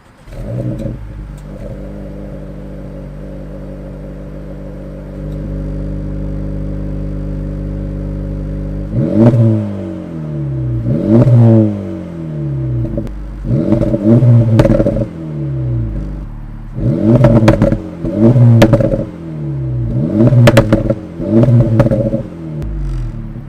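An Integra Type S engine with a triple exhaust settles at a steady idle, then is blipped hard again and again, each sharp rev climbing and falling back in quick succession, loud and close with no talking.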